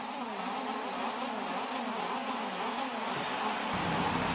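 Motorcycle engines rev together on the starting grid of a Grand Prix of the Americas race in MotoGP 25, a steady, loud, buzzing drone with shifting pitch that rises near the end.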